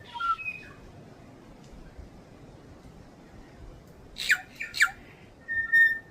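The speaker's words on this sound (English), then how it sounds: "There's a pair of birds singing to each other." Faint outdoor hiss in Catlins forest, New Zealand, then a pair of birds' sharp calls answer one another in quick bursts near the end, clear and fairly close.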